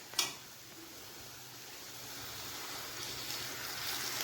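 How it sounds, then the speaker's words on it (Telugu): Water is poured into a pan of fried potato curry, a faint steady splashing hiss that builds slowly after a brief clink at the start. "ఇప్పుడు దీంట్లో కొంచెం వాటర్ యాడ్ చేస్తున్నాను నేను"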